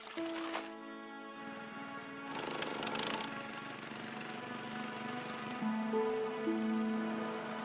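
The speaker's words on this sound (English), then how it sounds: "Drilling can continue." A truck-mounted water well drilling rig runs with a loud, steady mechanical clatter and engine drone, rising in bursts of heavier pounding and droning on without pause.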